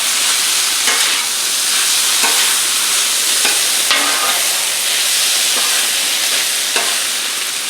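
Chicken stir fry sizzles loudly and steadily on a hot Blackstone griddle, the constant hiss broken by scraping strokes as the food is mixed, with no voices.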